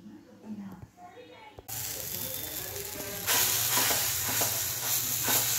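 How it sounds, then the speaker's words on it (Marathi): Cucumber parathas frying in a pan at home: a steady close sizzle that starts abruptly and grows louder partway through, with soft scraping and stirring noises and someone talking over it. "आता बाबांसाठी सुद्धा काकडीचे पराठे करते।"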